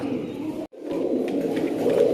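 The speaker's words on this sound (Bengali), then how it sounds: "এই জায়গায় দিয়ে দিলাম এক জোড়া লাল চুল্লি কবুতর" A pair of red pigeons cooing close by, a steady low murmuring coo that runs almost continuously with one brief break.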